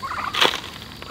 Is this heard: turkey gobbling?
yes